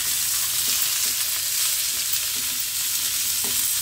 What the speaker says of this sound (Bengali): এভাবেই পুরো করলাটা আমি ভেজে নেব।